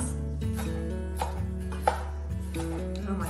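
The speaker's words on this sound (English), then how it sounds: "Yes, let's cut just the green pieces." A knife chops green onions on a cutting board with a few soft, close taps over a steady background hum and faint music.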